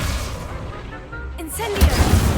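The Incendio fire spell cast in the video game Hogwarts Legacy gives a dense, loud whooshing burst with a rising crackle and rumbling boom, close up and with no talk over it.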